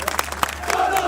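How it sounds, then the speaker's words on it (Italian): A crowd of Palermo football fans from the north curve sing in chorus inside a cathedral at a funeral, a loud, dense wash of many voices with scattered shouts. "Quando la bara arriva in cattedrale si alza il coro dei tifosi della curva nord del"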